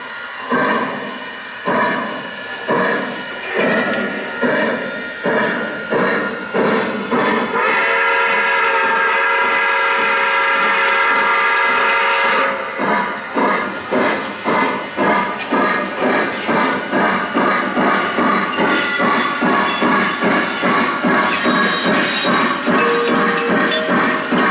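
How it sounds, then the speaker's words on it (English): A Lionel Legacy NYC Empire State Express model train runs with steady, rhythmic clicking over the track joints and a sustained whistle in the middle stretch, loud and close throughout. "You should be able to hear the squeals and everything of the train."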